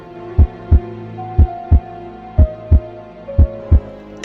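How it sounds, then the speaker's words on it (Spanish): A heartbeat sound effect for a horror legend narration: eight deep, booming thumps in paired lub-dub beats at a steady rhythm, loud and close over a low droning hum, with no voices. "El joven podía escuchar los latidos de su corazón"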